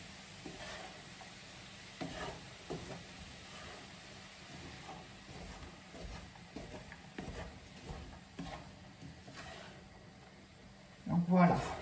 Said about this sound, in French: faire revenir aussi les courgettes. Les courgettes doivent rester fermes selon la recette.